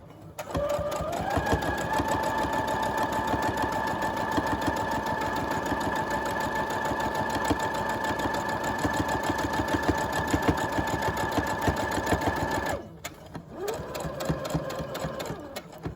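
A sewing machine stitches a fabric face mask closed with a steady, fast mechanical whir and rapid needle clatter, running continuously near the mic, then briefly pausing before resuming.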